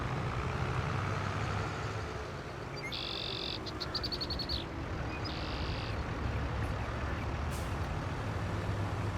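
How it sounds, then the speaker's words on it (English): A tanker truck rolls past on a farm road in a farming video game, a low steady engine rumble with brief high hissing bursts that sound like air brakes, set against a constant background drone. "Let's watch out for that tanker truck here."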